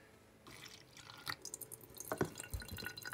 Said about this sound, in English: So let's take our salty green water here and pour that through the filter.